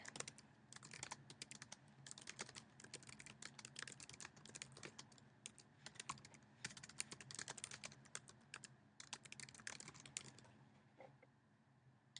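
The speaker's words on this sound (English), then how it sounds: "And then you start typing in the dialogue." Quiet, steady typing on a computer keyboard, a rapid run of soft key clicks continuing throughout with no voices.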